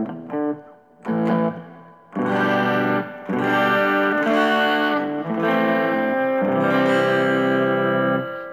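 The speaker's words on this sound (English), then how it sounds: "just a little bit of distortion, so it's like a crunchy kind of sound" A sustained chord-like tone with light, crunchy distortion, played in several swelling phrases with brief gaps between them.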